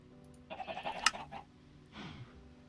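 Sheep bleating from the video game Sky Factory 4 (Minecraft): one wavering bleat followed after a short gap by a second lower bleat, faint and heard alone.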